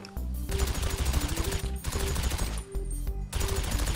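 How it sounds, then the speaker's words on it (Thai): Gunfire at a shooting range in the video game GTA 5, rapid automatic bursts close and loud in several runs separated by short gaps, over a steady tonal game background. "ไหนๆก็มาห้องซ้อมแล้วเราต้องซ้อมยิงหน่อย"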